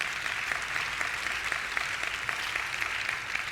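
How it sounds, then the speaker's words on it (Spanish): A church congregation applauds in a steady, dense wash of clapping that holds at an even level throughout, with no voices standing out. "déle ese aplauso grande al Señor"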